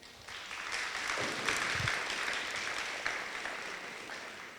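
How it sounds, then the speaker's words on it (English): Audience applause at a high school senior graduation parent meeting, a steady wash of clapping from a seated crowd with no talk over it, moderately quiet and sustained throughout. "if we could do just a round of applause for Miss Knight being a senior counselor"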